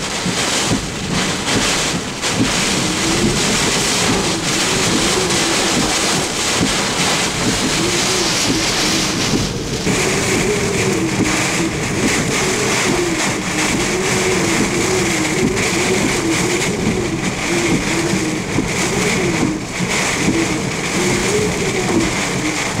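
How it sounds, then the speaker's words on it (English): Strong wind from Hurricane Isaac roaring across a parking lot in Galliano, Louisiana, a loud continuous rushing blast buffeting the microphone with no letup. "wind is, seems to be blowing a little harder now"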